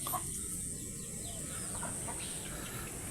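Hens clucking in a short, busy stretch with scattered soft calls over a steady background hiss; no voices.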